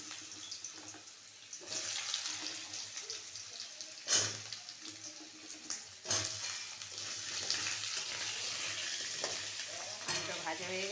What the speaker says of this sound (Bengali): মশলাগুলো দিয়ে দিলাম, ফোড়নগুলো। দিলাম আলুগুলো ছেড়ে,